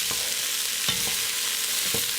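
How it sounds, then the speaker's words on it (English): Vegetables and onions cooking in a soup pot for a low-sodium creamy pea soup, giving a steady soft sizzle with a few brief stirring scrapes, close and moderately quiet. "we're letting those vegetables cook for just a few minutes. Make sure to keep stirring if you don't want them to burn."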